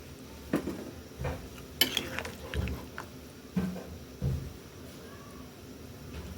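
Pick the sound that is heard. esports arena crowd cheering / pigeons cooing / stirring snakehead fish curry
stirring snakehead fish curry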